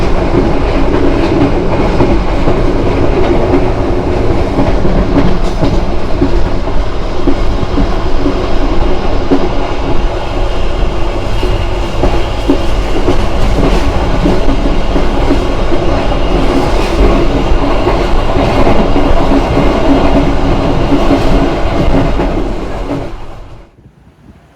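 The Ambarawa Express train rolls steadily along the rails with a continuous rumble and faint rhythmic clatter, loud and close, fading out abruptly at the end.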